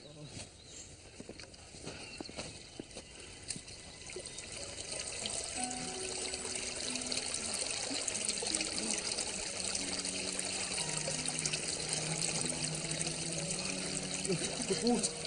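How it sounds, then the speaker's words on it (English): Water trickling and flowing back into a forest pool or well in a medieval outdoor setting, a steady soft wash throughout with faint voices and movement underneath. "The water's come back."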